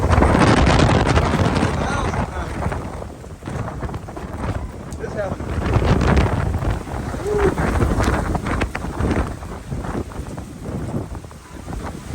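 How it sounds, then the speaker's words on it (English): Strong straight-line storm winds buffeting a Jack Wolfskin Yellowstone 2 tent, loud rushing gusts and flapping rising and falling throughout, with heavy wind roar on the microphone. "Oh, we had some strong straight line winds."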